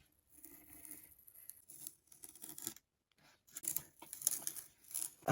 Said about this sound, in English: peeling off tape is so satisfying